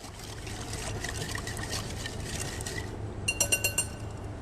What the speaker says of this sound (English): Now this mixture, give it again a nice stir.